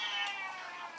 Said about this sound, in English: If you hear meowing in the background, we have 3 cats running around.